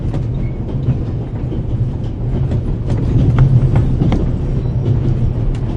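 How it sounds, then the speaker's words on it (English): A train rolls steadily inside a PS4 video game, giving a continuous loud rumble with rhythmic clickety-clack beats throughout and no voices. "The noise on this train is driving me crazy."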